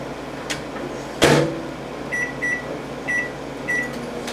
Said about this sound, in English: take one soft taco shell, throw it in the microwave